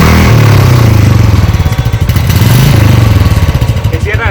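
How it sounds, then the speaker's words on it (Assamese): A new motorcycle runs steadily close by, its exhaust note a loud, throbbing low rumble with a few small rises in revs and no speech over it. "আপোনালোকে এক্সজষ্ট নটটো শুনাম মানে আপোনালোকৰ বাইকখনৰ চাউণ্ডটো এটা শুনাম"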